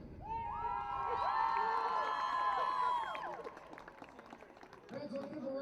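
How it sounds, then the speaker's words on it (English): A football-game crowd cheers and applauds loudly for several seconds, then fades into scattered clapping and chatter as an announcer's voice returns. "let's give one more round of applause for the senior members of the pep band"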